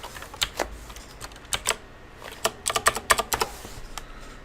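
Rapid clicking of keys on a computer keyboard, irregular bursts of close, crisp keystrokes over a quiet room tone, with no talking.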